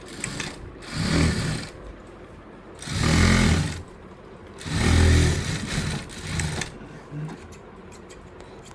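A sewing machine runs in repeated bursts while stitching a frock, each steady whirring run lasting about a second with short pauses between, heard close and loud.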